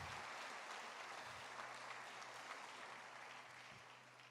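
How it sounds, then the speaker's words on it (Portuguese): A church congregation applauds steadily, a dense even patter of many hands clapping in a reverberant hall, fairly faint overall and gradually easing toward the end. "Aplauda o Senhor Jesus."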